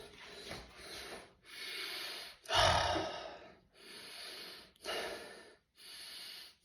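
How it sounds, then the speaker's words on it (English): Nasal breathing with the nasal valves held open, a series of loud close inhales and exhales through the nose in a steady rhythm, one stronger snorting breath in the middle. "So you'll always see me breathing through my nose."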